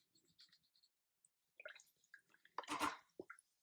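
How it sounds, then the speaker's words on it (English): A watercolor paintbrush swished and rinsed in a container of water, giving soft splashes and trickles, faint and close, building to a brief louder slosh near the end. "Rinsing my brush, getting some clean water"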